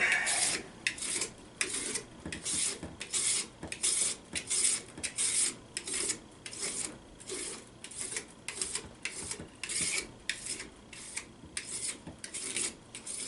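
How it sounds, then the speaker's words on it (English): A knife scrapes old grip tape off a graphite golf club shaft held in a vise, making repeated short rasping strokes in an even rhythm, fairly quiet and close, with no talking. "To get the old tape off, slide the knife like this."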